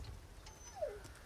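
A dog whimpers in the Resident Evil 4 Remake video game, giving one faint, thin descending whine over a low rumbling game backdrop.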